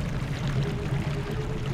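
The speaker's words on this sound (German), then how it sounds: "Und somit fließt das Wasser dann weiter eingedicht." Water pouring steadily through an opened lock gate in Zelda: Twilight Princess, a continuous full rushing flow that holds even throughout with no voices.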